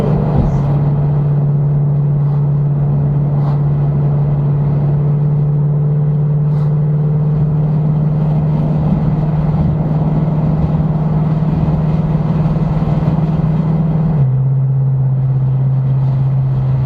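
A car fitted with a full stainless-steel exhaust line and long-tube headers holds a steady, loud, low engine drone that drops slightly in pitch near the end, with no talking.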